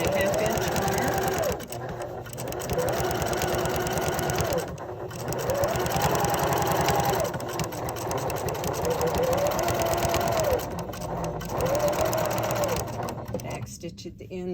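A sewing machine stitches upcycled denim jeans into a tote bag in long steady runs of rapid whirring, pausing briefly several times for back stitches.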